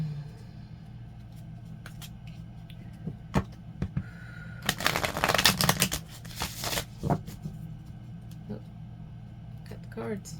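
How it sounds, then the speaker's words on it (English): Tarot cards are shuffled and cut at close range, giving a dense burst of riffling and flicking in the middle, with scattered soft taps before and after over a low steady hum. "cut the cards"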